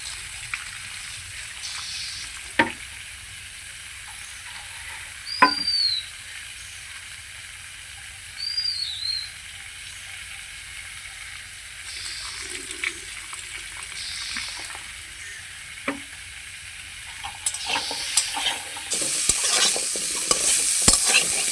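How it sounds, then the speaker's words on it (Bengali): Drumstick vegetable stalks fry in a pan for lentil dal, with intermittent stirring scrapes and a soft sizzle; a few sharp utensil knocks punctuate it and a brief watery clatter rises near the end. "এদিকে ডাঁটা ভাজতে থাকবো"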